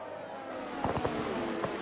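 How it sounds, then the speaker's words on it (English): Fireworks burst in a cluster of several dull pops over steady game noise at a Mexican Grand Prix race finish in F1 22, moderately loud and somewhat muffled. "The fireworks are going off,"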